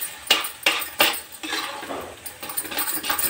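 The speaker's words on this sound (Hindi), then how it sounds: "चलाते हुए पकाना है" Metal spoon scraping and clinking against a pan while carrot halwa cooks, with several sharp clinks early then continuous scraping and stirring noise, fairly close and alone.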